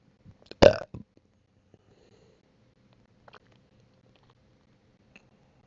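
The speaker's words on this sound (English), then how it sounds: "How can you be proud of a burp that's forced? Forced burp." A single forced burp bursts out close and loud, short and croaky, followed by a few faint clicks and small noises in an otherwise quiet room.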